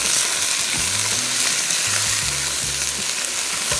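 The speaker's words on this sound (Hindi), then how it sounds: "तो इसको थोड़ा सा फ्राई किया पहले" Bone-in chicken frying lightly for a Vietnamese chicken curry, a loud dense continuous sizzle close up, with low rumbling tones from the pan and no voices.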